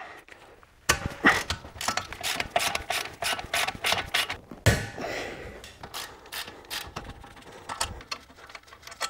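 A hand ratchet clicks in quick, evenly spaced strokes while loosening the 17 mm brake caliper bolts on a Suzuki Jimny, close and crisp, with a brief pause and clunk midway before the clicking resumes.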